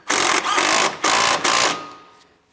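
Ratcheting wrench tightening alternator mounting bolts on a 2007-2014 Ford Edge 3.5L, heard as loud rapid buzzing ratchet bursts in about three pulls, close up, ending with a fading tail.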